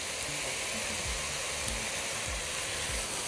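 Onions and meat seasoned with salt and black pepper fry in a pot, giving a steady, loud sizzle with faint low stirring scrapes underneath and no voices.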